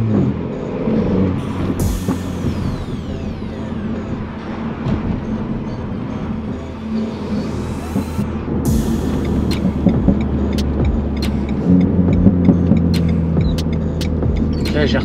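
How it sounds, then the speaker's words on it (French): A Renault Mégane 4 R.S. Trophy engine runs loudly and steadily, with sharp exhaust pops and crackles scattered through as it downshifts, especially toward the end. "Oh, elle pétarade les gars, un truc de malade, vraiment."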